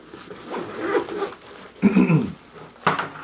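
Zipper on a DJI Mavic drone carrying bag pouch being pulled in several quick, raspy strokes, close and fairly loud, with pauses between pulls.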